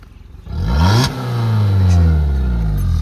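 A 2018 Maruti Swift top model engine revs as the accelerator is pressed: after a soft idle the motor surges up loudly, dips for a moment, then holds a strong rising roar close by.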